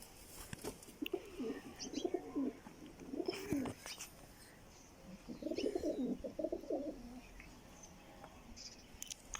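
Chhatri breed pigeons at a Manchanabad loft give two clusters of soft, throaty coos, one early and one midway, against quiet background hiss with occasional clicks and rustles.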